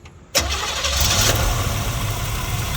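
A 1933 Ford two-door sedan with a dressed 350 V8 and Edelbrock carburetor cranks and fires abruptly, then settles into a loud, steady close idle.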